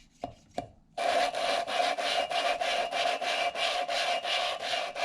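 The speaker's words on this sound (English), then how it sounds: "you'll hear that tone change when it stops, that more coarse grinding sound." Valve lapped against its seat with lapping compound during a Hemi long-block build: two brief taps, then a steady, close, rhythmic gritty grinding that swishes back and forth in repeated strokes.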